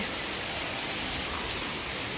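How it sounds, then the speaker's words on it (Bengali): Steady rain pours down in a dense, even hiss, continuous and fairly loud throughout, with no voices. "এমন বৃষ্টি শুরু হয়েছে"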